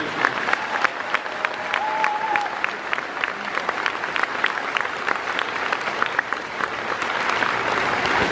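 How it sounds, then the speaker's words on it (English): Sustained applause from a crowd at a pageant finale, dense clapping filling the room steadily from start to finish at a moderate, even level. "Let's have one more round of applause for all of our participants."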